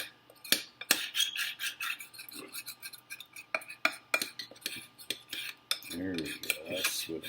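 A spoon scrapes and clinks against the inside walls of a cup of cacao with hot milk, a close run of sharp taps and rasping strokes in an irregular rhythm.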